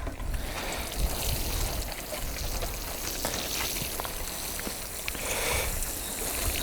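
A raised vegetable garden bed is watered, likely through a watering can rose, at the end of winter, giving a steady, soft wash of splashing water on soil and plants that continues evenly throughout.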